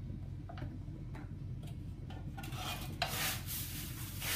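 Couscous semolina being mixed by hand with about two spoonfuls of oil in a bowl, giving soft rubbing and light ticking scrapes, rising to a louder rustling stir in the last part, close and without speech.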